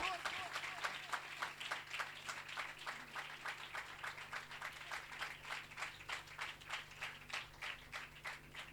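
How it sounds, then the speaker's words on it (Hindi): A church congregation claps steadily throughout, dense rapid hand claps forming a sustained, moderately loud wave of applause with no break. "जोरदार तालियां"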